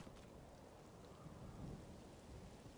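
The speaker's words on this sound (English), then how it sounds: "Oh gosh, it's raining." Steady rain falls in Zelda: Tears of the Kingdom, a soft continuous wash of drops with a low rumble swelling midway, no voices over it.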